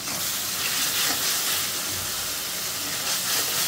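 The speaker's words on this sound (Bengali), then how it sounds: "লবণ, হলুদ, মরিচ ফাঁকি, ধনিয়া ফাঁকি দিয়ে ভালো করে মশলাটা কষিয়ে নিব" Salt, turmeric, chili and coriander powder being fried in a pan for a chicken bhuna, giving a continuous broad sizzle and hiss that stays steady and fairly close the whole time, with no voice over it.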